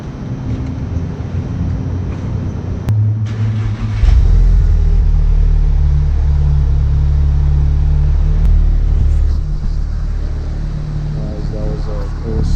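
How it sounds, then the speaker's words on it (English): A Volkswagen MK7 Golf R starts up: a low ambient hum, a short starter crank, then the engine catches into a strong, deep idle that holds steady and close. "I'm gonna start up the car real quick"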